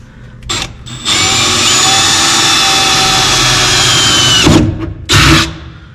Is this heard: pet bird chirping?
no